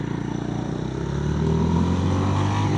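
Honda GB350 motorcycle accelerating hard from a standing start, the engine note rising steadily in pitch as it revs up, loud and close with no talking.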